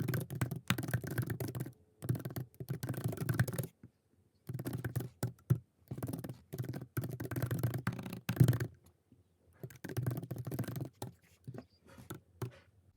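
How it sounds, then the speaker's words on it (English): Computer keyboard typing during robot programming code work, bursts of steady close key clatter separated by short pauses, with no talk. "So I'm going to be typing it out and explaining it as I go."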